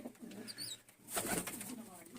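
Pigeons settled in their loft in winter give soft, faint coos along with a brief rustle of wings, close by and quiet against low background noise.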